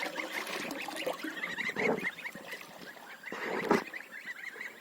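Goslings hatched by a duck on a Ukrainian village farmstead give faint, repeated high honking calls in quick bursts, rising in two louder clusters over a soft background.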